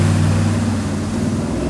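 Custom Toyota 76 series LandCruiser, a restored ex-mines vehicle, driving on bush tracks: a steady, loud low engine drone with a continuous rumble throughout and no voices.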